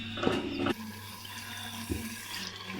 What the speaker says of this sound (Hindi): फिर इसमें पानी शामिल करते।